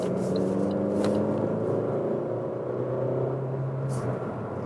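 A Fiat Tipo's 1.6-litre engine revs up toward 4,000 RPM, its pitch climbing and holding as it rises, with a low rumble and a hint of road noise underneath.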